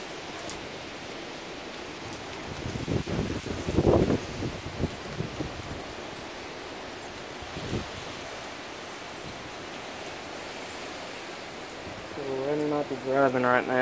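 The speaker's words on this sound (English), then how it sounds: "Here comes rain." Heavy rain arrives during a severe storm, a steady broadband wash with gusty surges, while a voice speaks briefly near the end.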